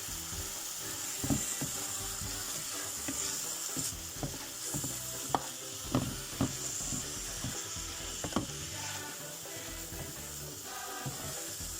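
Onions cooking in a pan with black pepper, garlic and herbes de Provence, a gentle sizzle broken by repeated sharp spatula scrapes and taps against the pan, with no speech.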